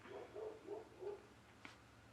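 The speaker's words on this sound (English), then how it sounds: "Why do my dogs have to bark? They bark a lot." Dogs bark at home in about four quick, evenly spaced barks, faint and somewhat distant, followed by quiet.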